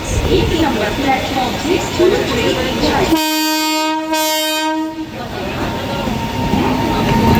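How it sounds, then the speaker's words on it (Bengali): A freight train hauled by a WAG-9 electric locomotive passes through Ranaghat junction. A loud two-second horn blast sounds mid-way over the steady rumble and rolling noise of the train. "সামনে দিয়ে দেখতে পাচ্ছ ওয়াগ-9 লোকোমোটিভ নিয়ে মালগাড়ি আসছে, রানাঘাট জংশনকে স্কিপ করবে।"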